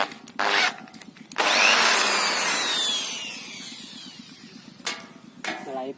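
A power drill bites into thin steel drilling a pilot hole: a short burst, then a longer harsh grinding whine that slowly fades, with faint knocks and scrapes afterward.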